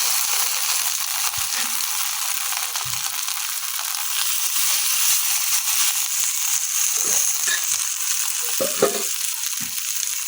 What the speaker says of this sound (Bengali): এই বড়াগুলো আমি এখন এমনি ভাজা নিলাম।